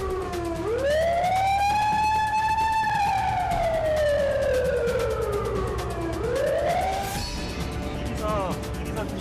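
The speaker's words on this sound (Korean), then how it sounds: "그 시각 작업이 차질 없이 진행된 다른 구역에서 사이렌 소리가 울린다" Loud blasting warning siren at a tunnel construction site, wailing, rising and slowly falling in long sweeps, then climbing again, with faint voices and rumble beneath.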